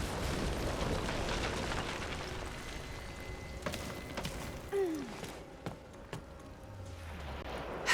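A shot fired in the Rise of the Tomb Raider video game, heard as a heavy rumbling blast that fades into a steady roar, with a few sharper cracks afterward.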